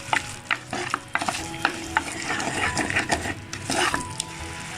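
Dried anchovies (nethili karuvadu) are stirred in a clay pot over frying sizzle, with frequent sharp scrapes and taps of the spoon against the pot in a quick, irregular rhythm, close up.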